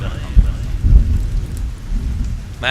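Steady rain falls with deep rolling thunder rumbling close by, a continuous wash of downpour with heavier low booms early on and a faint voice in the background.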